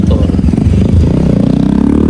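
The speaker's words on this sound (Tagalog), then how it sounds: "Basta nakikita ni Kyle yung mga motor." Motorcycles pass close by with a loud, low, rumbling engine drone that pulses and thickens steadily.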